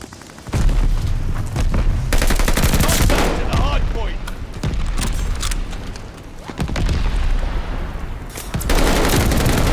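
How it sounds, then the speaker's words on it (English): Dense gunfire and heavy mortar blasts from a Call of Duty: Vanguard Hardpoint match, loud and close, with rapid bursts of shots and booming impacts rolling almost continuously, a voice briefly audible beneath the battle noise. "They're sending mortar shells."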